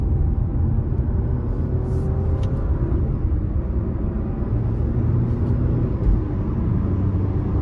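A 2023 Dodge Hornet GT AWD with a 2.0 turbo four-cylinder accelerates onto the interstate, heard from inside as a steady low engine and road rumble with faint rising tones, no voices.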